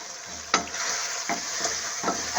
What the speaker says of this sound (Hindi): अच्छी तरह से हम इसे मिक्स करेंगे